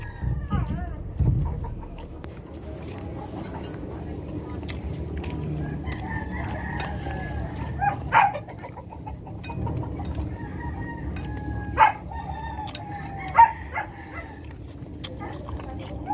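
Roosters crow a few times amid background chicken noise and distant barking, with people talking nearby.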